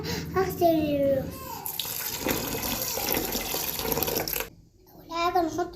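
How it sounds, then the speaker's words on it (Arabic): Rice rinsed under running tap water in a home kitchen, a steady close splashing flow with someone talking over it before and after. "أول حاجة هنعملها هغسل الرز."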